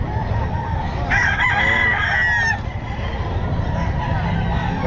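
Roosters crow at a pet market in Bocaue amid clucking fowl and background crowd noise, with one loud, clear crow standing out near the middle over steady chatter.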